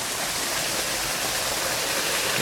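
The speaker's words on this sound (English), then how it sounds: "You can hear the waterfall." The waterfall at Beauchief Abbey in Sheffield gives a steady, broad rushing hiss of falling water, continuous and fairly close, with no voices.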